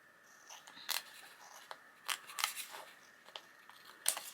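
Paper being trimmed for a handmade journal with scissors, a few short crisp snips and crunches scattered irregularly, close and fairly quiet, with no talking.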